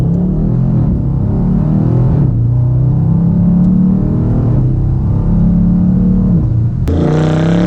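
A V8 Dodge Charger revs and accelerates hard after a downshift, its loud engine note climbing and dropping through several gear changes, close and continuous with no talk.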